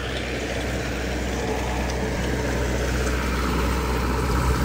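A Mahindra tractor engine runs steadily in a field of millet, a continuous low diesel rumble holding an even, unbroken level throughout with no voices.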